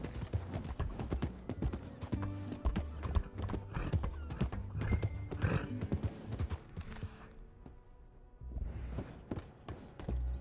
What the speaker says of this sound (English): Horse feels so slow for some reason.